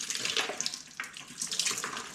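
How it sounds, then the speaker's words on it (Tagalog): Water boiling in a pot, bubbling and hissing steadily in a close, soft churn, with no voices. "Yan, naririnig niya. Kumukulo-kulo na siya."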